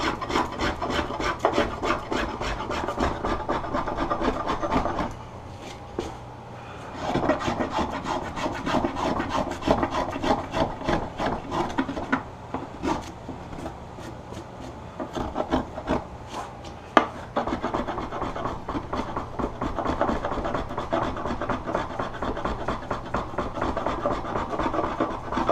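Hand tools carve and rasp at a piece of wood in steady, repeated scraping strokes, close and fairly quiet, with two short pauses and one sharp tap partway through.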